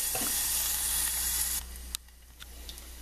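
Bacon sizzles in a pan with a steady, bright hiss that drops away partway through, leaving a quieter background with a few small clicks and taps.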